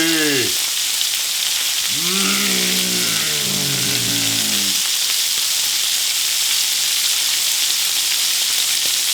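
Meat sears in a heavy-duty stainless steel pan with a loud, steady sizzle and crackle, while a brief tonal whine rises and falls early on, and the frying continues alone to the end.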